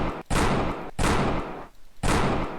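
Three loud, sharp flintlock pistol shots in a video game, each a heavy blast with a short decaying tail, spaced roughly a second apart with brief quiet gaps between them.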